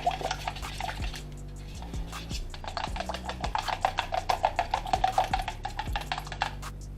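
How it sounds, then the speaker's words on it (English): Eggs being scrambled in a hot pan for a loaded breakfast baked potato, with steady soft scraping and stirring, light sizzle and repeated utensil taps against the pan, close and continuous. "When you're scrambling the eggs, you want to go ahead and break that yolk."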